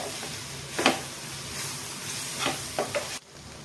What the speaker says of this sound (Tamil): இப்போ இந்த இஞ்சி பூண்டு பேஸ்ட் போட்டு நல்லா சின்ன தீயில வச்சு ஒரு 5 நிமிஷம் அந்த ரா ஸ்மெல் போகிற வரைக்கும் வதக்கணும்.